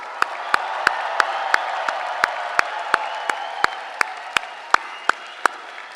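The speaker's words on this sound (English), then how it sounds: "please join me in giving them a big final round of applause" Audience applause at a university commencement ceremony fills the space, with sharp individual claps standing out in a steady, regular rhythm over the broader clapping.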